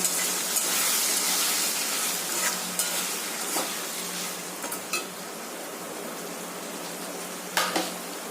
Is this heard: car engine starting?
no